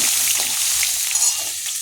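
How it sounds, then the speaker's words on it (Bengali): Pointed gourd pieces fry in hot oil in a kadai, giving a continuous bright sizzle up close that holds steady throughout without pause. "এবার পটলগুলো ভেজে নেব।"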